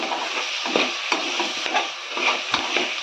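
Masala for veg biryani with green chillies is stirred in a pan, giving a steady scraping, sizzling texture with soft periodic strokes of the spoon, close and moderately loud, with no talk.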